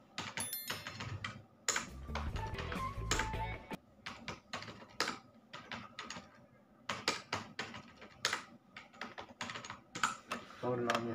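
Fingers type into an Excel spreadsheet on a computer keyboard, giving quick, uneven bursts of close, crisp key clicks with short pauses, and a voice talks softly at points.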